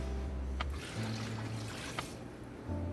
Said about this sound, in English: we're just going to add 1 can of water